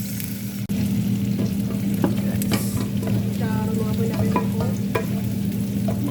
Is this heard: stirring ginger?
yes